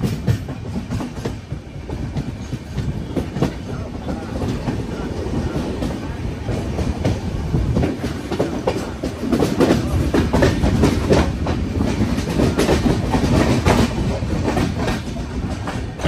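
Vaigai Express train from Madurai to Chennai running fast on the main line near Dindigul, with steady loud onboard rumble and rhythmic wheel clatter throughout and no pause.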